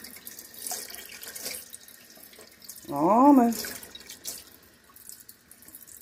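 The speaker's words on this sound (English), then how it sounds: "top it off with some cold tap water till it equaled out to 1 cup" Cold water from a kitchen tap runs continuously as a measuring cup is topped up to one cup of hummingbird feeder nectar, a close, steady splashing hiss. A voice speaks briefly over the flow.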